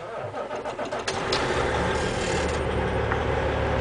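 A truck engine cranks and catches, then settles into a loud, steady rumbling idle close by, with no voices over it.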